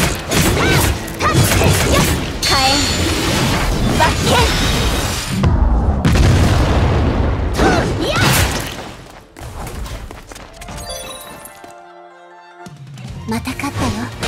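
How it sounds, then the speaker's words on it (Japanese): Explosions and crashing effects in the video game Honkai Impact 3, a fire-themed battle: loud bursts and impacts layered with game music and character voices, with a quieter stretch near the end. "爆発よ。"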